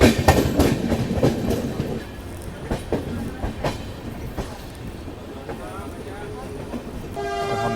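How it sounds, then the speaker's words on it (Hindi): Bhubaneswar Duronto Express pulling into Kanpur Central station, wheels clattering over rail joints in a dense rhythmic series early on, then a steadier rumble with a brief horn-like tone near the end. "हमारी ट्रेन अब सीधा अराइवल ले रही है कानपुर सेंट्रल रेलवे स्टेशन में"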